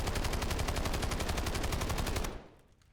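Rapid automatic gunfire from a Maddox build weapon in a first-person shooter, a loud continuous burst of evenly spaced shots for about two seconds before cutting off and fading.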